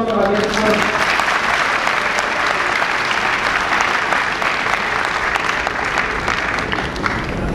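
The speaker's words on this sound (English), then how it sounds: "Can we please have a round of applause for our guests?" An audience at a college lecture applauds for invited guests, a dense, sustained clapping that stays loud and even throughout without any talk.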